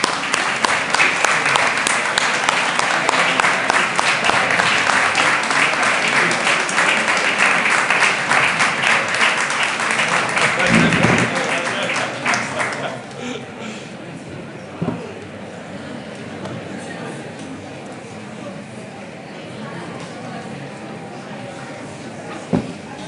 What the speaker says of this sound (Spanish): es el que merece un aplauso, es don Pietro Torrigiano